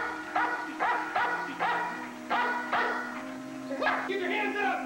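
A police dog barks in repeated sharp bursts, about eight in quick succession, loud and close, with faint voices mixed in.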